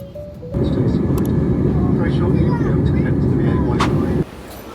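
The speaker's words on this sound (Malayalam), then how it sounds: "ഫ്ലൈറ്റ് എടുക്കാൻ പോവാണ്." Steady, loud low roar of an aircraft engine during flight, starting suddenly and cutting off after a few seconds, with faint voices underneath.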